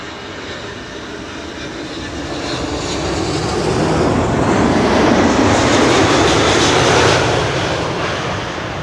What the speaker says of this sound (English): KLM Flight 706 arriving from Rio de Janeiro is next.